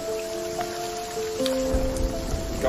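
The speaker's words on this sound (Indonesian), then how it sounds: "perjalanan mereka terhambat karena hujan turun cukup deras" Heavy rain pours at night in a forest, a steady dense hiss that thickens halfway through, with faint sustained tones running underneath.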